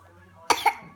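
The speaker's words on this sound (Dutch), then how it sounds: "Oma hoesten." An elderly woman gives a couple of sharp, close coughs, the second rougher and throatier, breaking an otherwise quiet moment.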